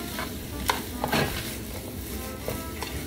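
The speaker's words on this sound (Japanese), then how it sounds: "バター 10g 入れます" About 10 g of butter sizzles in a pan over low heat with German potatoes of new potatoes and new onions, a soft steady frying hiss broken by scraping stir strokes, with no talking.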